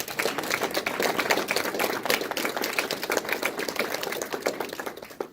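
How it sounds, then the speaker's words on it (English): A crowd at a military retirement ceremony applauds steadily for several seconds, a dense patter of many hands clapping at moderate distance with no one speaking. "that deserves a round of applause"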